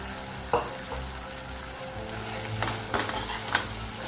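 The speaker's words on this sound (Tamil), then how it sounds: "நம்ம கட் பண்ணி வச்சுருக்க சுண்டைக்காய் இதில் போட்டுடலாம்." Chopped pea eggplants sizzle in a pan with softened tomato and onion, a steady frying hiss broken by a few sharp clicks and scrapes as the mixture is stirred.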